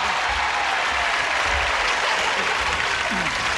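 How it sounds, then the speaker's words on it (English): A studio audience at a 1983 television game show applauds to welcome the celebrity panel, a brisk, dense, unbroken wall of clapping that holds evenly from start to finish. "join us, if you would please, with a brisk round of applause as we say hello to our celebrated stars"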